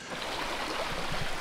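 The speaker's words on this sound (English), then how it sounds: "So I figure this is my lucky creek and I'm gonna fill up. Cold mountain water." A cold mountain creek along the Colorado Trail near Kenosha Pass, rushing steadily and close by, a continuous wash of water with no voices.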